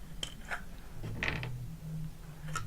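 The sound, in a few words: removing screws from a pond filtration plank fitting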